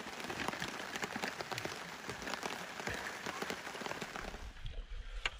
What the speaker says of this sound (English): there was no wind, and the rain just kept going